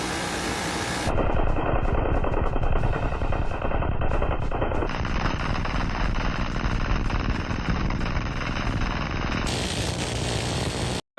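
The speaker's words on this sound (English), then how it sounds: "How about the M134? 50 rounds a second, just destroying." An M134 minigun fires a continuous buzzing roar of about 50 rounds per second, loud and dense for roughly ten seconds before it cuts off abruptly.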